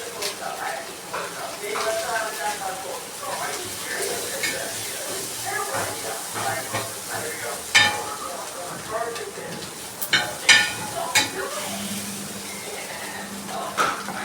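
Onions and tomatoes frying with curry masala in a pan make a steady low sizzle under continuous talking, with occasional sharp clinks of a utensil against the pan.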